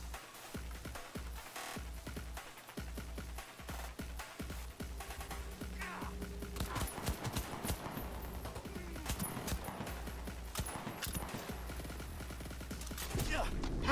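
Gunfire in the video game Cyberpunk 2077 crackles in scattered rapid bursts throughout, mixed with game effects and background sounds at moderate loudness.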